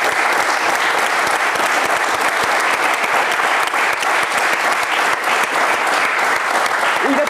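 Dense, loud applause fills a football stadium in tribute to a late club legend and former captain, a continuous roar of clapping from a large crowd with no break.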